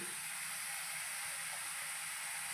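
Garlic, onion and coriander leaves sizzle in hot oil, a soft, steady, close hiss with no break or voices.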